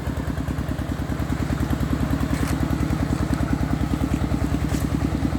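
A homemade small vehicle's engine runs loud and close with a fast, even thumping putter, like a small single-cylinder motor, steady throughout with faint clatter and no talk.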